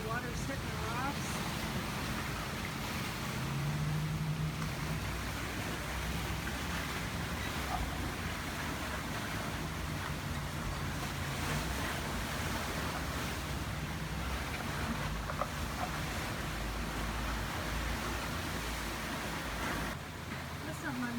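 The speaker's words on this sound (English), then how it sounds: "how rough the water's hitting the rocks?" Rough water on the Lake of the Ozarks slaps and washes against rocks in a constant churning roar, with wind buffeting the microphone and a voice talking over it.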